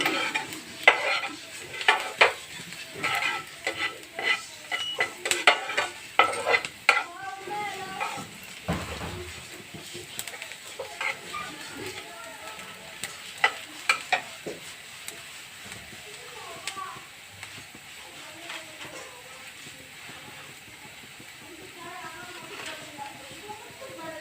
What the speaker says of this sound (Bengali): গ্যাসটাকে একটু বাড়িয়ে দিচ্ছি, পেঁয়াজটা যেন তাড়াতাড়ি ভাজা হয়ে যায়।